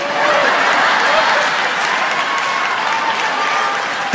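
Comedy club audience at a stand-up show applauding continuously, a dense wash of clapping with faint crowd murmur, loud and steady throughout with no clear speech on top.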